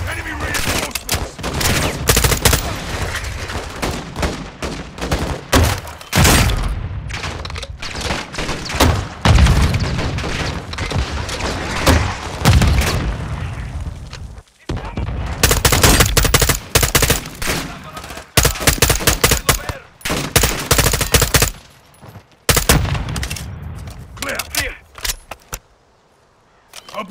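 Dense Call of Duty: Modern Warfare II combat gunfire, with rapid automatic bursts and heavy booms crowding together in loud, near-continuous volleys, broken by a brief lull before the firing picks up again.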